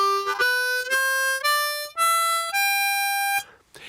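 A harmonica plays a rising no-bend blues scale of six sustained notes, each breathy and reedy with clean steps between them, ending in a soft exhale.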